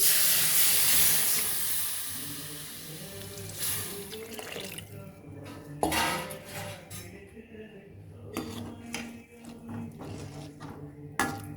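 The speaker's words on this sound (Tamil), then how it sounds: "இப்போ நம்ம புளி கரைச்சலை ஊற்றிடலாம்." Tamarind extract poured into a hot pot for mavaththal kulambu, a steady watery pour and hiss that fades after a few seconds into softer bubbling, with a few sharp clinks near the end.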